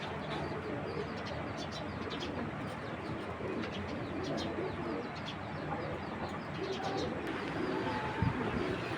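Pigeons at a tournament pigeon sale coo steadily through the whole stretch, several birds blending into a dense, continuous murmur with occasional louder calls close by; no one speaks.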